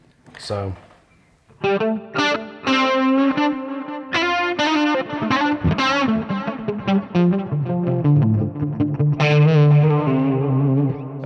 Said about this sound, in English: that's quite a wet sound with a high mix of delay and reverb